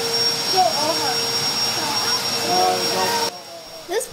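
A pond vacuum sucks up water, dirt and algae, giving a steady loud whining motor roar that runs throughout and cuts off near the end, with a person talking over it.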